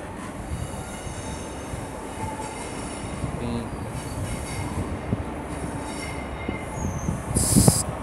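A passenger train rolls into Swindon station in Wiltshire, wheels squealing and rails clicking over a steady rumble, the noise building to a sharp brake hiss at the end.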